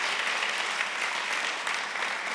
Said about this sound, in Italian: facciamo un bel applauso a Daphne